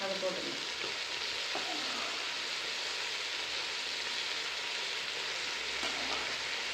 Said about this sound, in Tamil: மஷ்ரூம் வதக்கி வச்சுருக்காங்கப்பா, அதை போட்டுக்கணும்.